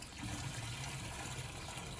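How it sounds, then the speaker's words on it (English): A new pump-up water sprayer mists water over outdoor Vanda orchids, giving a steady, close hiss of spray with a low rumbling undertone and no voices. "This is my new water sprayer and this is what I use now to water my orchids."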